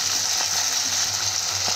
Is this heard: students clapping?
no